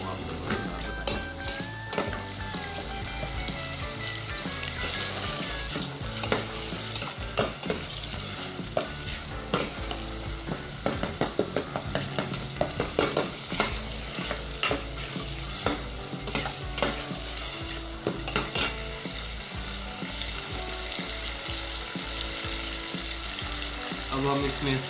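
Tomatoes and spices being stirred and frying in a pan for Punjabi aloo gobi, with a steady close sizzle and repeated scraping stir strokes throughout, no talking.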